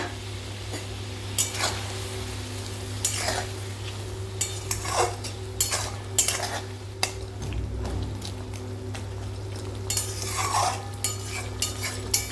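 Small Morola fish go into a pan of masala and water, giving a continuous low simmering sizzle with intermittent scraping and clinks of a spatula against the pan, close and steady, no voices.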